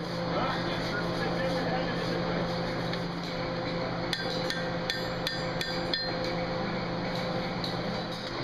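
Blacksmith's hammer blows on hot metal at a forge, a quick burst of sharp ringing strikes partway through over a steady roar of the forge fire and background noise.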